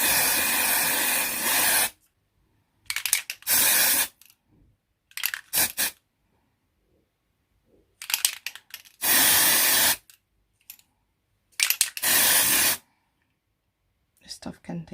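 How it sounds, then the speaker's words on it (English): Several sharp hissing bursts of white hairspray from an aerosol can, sprayed onto random hair strands for a Halloween Cruella De Vil look; long and short blasts separated by pauses, close and loud. "I'm just going to take my white hairspray and spray some strands"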